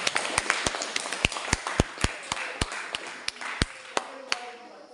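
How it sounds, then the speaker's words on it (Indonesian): Classroom applause for a student group after their presentation: a string of sharp, separate claps, loosely rhythmic and fairly close, slowing and fading toward the end. "Kita berikan tepuk tangan untuk kelompok 2."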